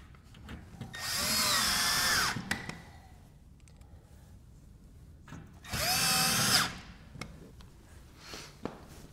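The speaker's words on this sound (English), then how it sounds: "you just want to use an 1/8 inch drill bit to get those drilled" A power drill with a 1/8 inch bit bores through an aluminum flange while porch window units are installed, in two separate bursts of high whining drilling of about a second and a half each, with quiet handling noises in between.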